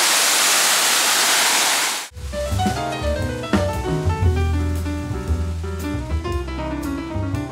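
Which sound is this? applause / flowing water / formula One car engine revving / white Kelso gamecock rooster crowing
flowing water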